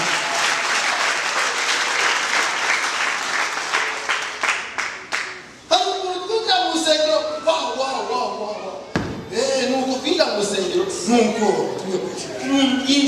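A church congregation claps together, a dense burst of applause that thins into scattered claps, with a voice speaking over it later.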